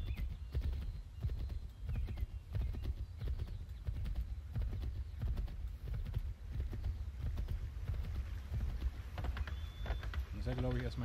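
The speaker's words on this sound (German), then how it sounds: "Jetzt mal hier den ganzen Weg wieder lang reiten." A horse ridden along a path in Assassin's Creed 3 keeps up steady clip-clop hoofbeats under a low rumbling ambience, with someone talking intermittently over it.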